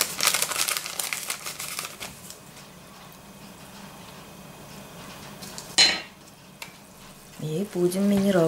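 Mineral water fizzes and crackles as it is stirred into pancake batter of flour, sugar, salt, vegetable oil and vanillin. A soft hiss comes first, then a sharp burst, and a voice speaks briefly at the end.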